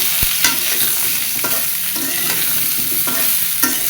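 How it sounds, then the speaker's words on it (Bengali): Potatoes and pointed gourd (potol) frying in a pan, a loud steady sizzle punctuated by regular stirring scrapes roughly every second, close by, with no speech. "ভালো করে আলু পটল ভেজে নিব"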